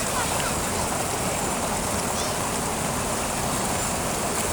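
A clear stream flows over visible stones outdoors, with a steady, loud, broadband rush of water that runs evenly and close throughout.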